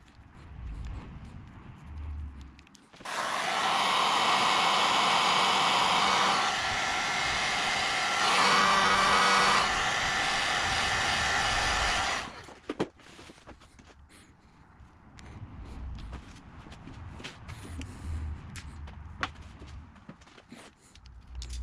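Heat gun blowing loudly for about nine seconds with a steady whooshing roar while shrinking heat shrink tubing over wiring on a Kubota compact tractor, then clicking off to quieter workshop handling noises.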